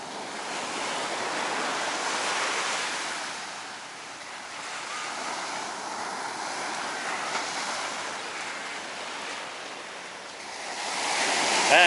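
Ocean waves breaking and surging at Rockaway Beach, Queens, a continuous broad wash of surf swelling and easing in slow cycles, with wind noise and no talking.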